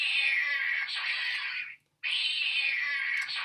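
Two long, loud, drawn-out cat meows, each close and sustained, separated by a brief silence, played as a sound effect for a story about a stray cat.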